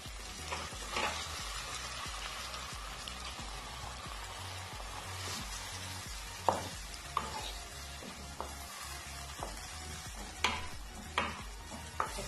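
Fresh tomatoes sizzle and fry in a pot for spaghetti jollof, a steady close crackle with occasional clanks and scrapes of stirring, and no voices.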